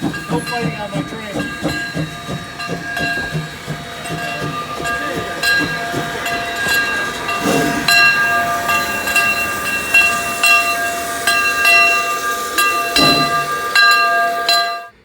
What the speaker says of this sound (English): As you can see, I'm on board the miniature gauge train.